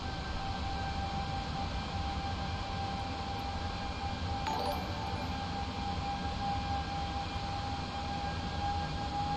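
Steady, even drone of A320 airliner engines at cruise in Microsoft Flight Simulator 2020, the FlyByWire A32NX flying out of Singapore, a constant broadband roar with a faint sustained tone and one brief click partway through, no voices.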